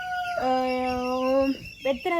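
Broiler chickens in a coop let out a single drawn-out, tonal call up close, followed by a few shorter squawks.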